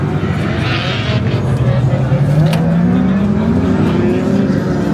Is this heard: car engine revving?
yes